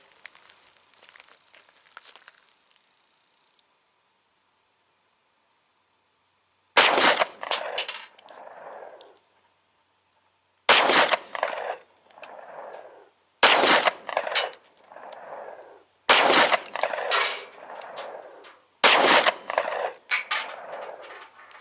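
Gunshots from a 9x19mm pistol firing 100-grain hollow point frangible rounds at a range target, five sharp loud cracks spaced a few seconds apart, each with a short echoing tail.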